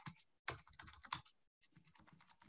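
Quick bursts of keyboard typing as city names are entered into a web app, close and fairly quiet, with a brief pause before softer keystrokes resume; no voice.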